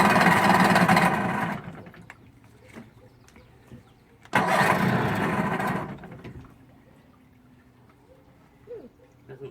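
An engine being started and throttled up sputters into two loud roaring bursts, each lasting about a second or two, then dies back to near silence in between and afterward, heard close and alone.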